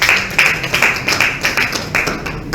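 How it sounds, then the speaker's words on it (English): Applause from a conference audience at a Nigerian domestic and eco tourism event, a brief burst of fairly close hand clapping heard on its own. "A round of applause."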